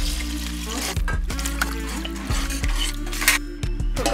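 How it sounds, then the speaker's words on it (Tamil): Water splashes and gurgles into a metal pressure cooker of rice close by, with light clinks of the vessel under the steady pour. "அரிசிக்கு 2 டம்ளர் தண்ணி ஊற்றிக்கணும்"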